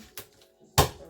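A whole chicken is chopped into smaller pieces with two separate blows, a light knock and then a louder, heavier thud of the blade through the meat onto the board, close by.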